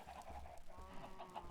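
Minecraft chickens cluck softly and repeatedly in the game, a faint, steady stream of short clucks over low background noise.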